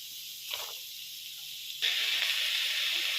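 Garlic and mushrooms fry in a pan for mushroom fried rice, a soft steady sizzle with a brief hiss early on that swells into a louder, sustained sizzle partway through.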